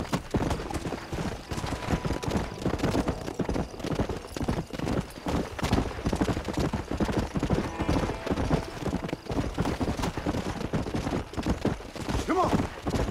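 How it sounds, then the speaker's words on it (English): Horse hooves clip-clop steadily and loudly while riding in the Red Dead Redemption video game, a continuous rhythmic trot with scattered thuds and a brief whinny near the end. "Mount back up, Mr. Marston. Come on. The sooner we get to the fort, the better"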